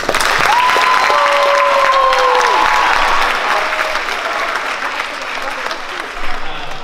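A school audience gives sustained applause to welcome a visiting choir, steady and full at the start and slowly thinning toward the end, with a few vocal tones sounding over the clapping.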